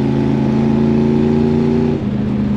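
A 2024 Ford Mustang GT with a 5.0-litre V8 revs loud and close, holding a deep, steady growl for about two seconds before the revs drop off and settle.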